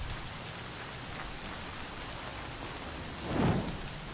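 Steady rain falls in the game Horizon Zero Dawn, a constant broadband hiss of drops on surfaces, with a louder low rumble like distant thunder swelling briefly near the end.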